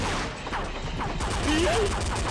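A boss in the Commando flash video game, a Metal Slug–style shooter, fires rounds of bullets in a dense, rapid clatter of gunfire and impacts lasting a couple of seconds, with game music underneath.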